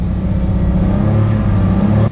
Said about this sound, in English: First up was the obligatory static noise test, where the car was obliged, in this case, to return a reading of under 100 decibels